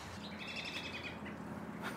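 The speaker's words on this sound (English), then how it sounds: "Okay, birds." Birds chirp outdoors in a steady run of high, thin calls under a constant windy background hiss, fairly faint and without any speech.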